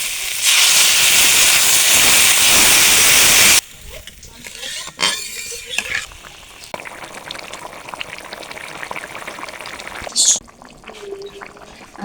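Curry broth for a big fish curry hits a hot pan with a loud rushing hiss of steam for a few seconds, then drops to a softer bubbling simmer with faint stirring scrapes; near, no talking.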